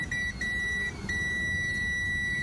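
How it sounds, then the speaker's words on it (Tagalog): A multimeter's continuity buzzer beeps while testing a shorted diode in a videoke amplifier, a steady high tone broken by brief gaps over a loud, constant low hum. "Yan, nag-buzzer din."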